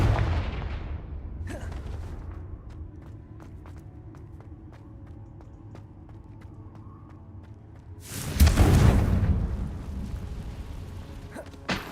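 A Confringo fire spell in Hogwarts Legacy bursts with a deep rumble at the start, then quiet footsteps follow before a second loud, booming explosion erupts and fades.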